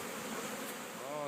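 Bees buzz around hives in a queen-rearing yard on a Florida farm, a thick, constant swarm hum heard close and steady, with a brief rising whine near the end.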